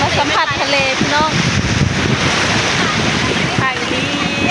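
Sea waves wash onto a Thai beach in a steady, loud surf roar with wind buffeting the microphone, while people chatter throughout.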